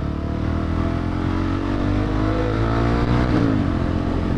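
A KTM 690 motorcycle engine revs loud and close, its single-cylinder roar holding steady and then swelling in pitch near the end, heard alone without any talking.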